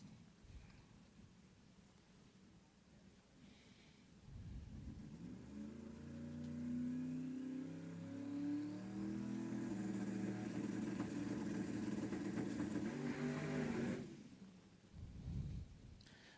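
A drag racing car on a solo pass at a street-car drag event, its engine roaring loud and close with rising harmonics for about ten seconds, then cutting off abruptly as the motor pulls down.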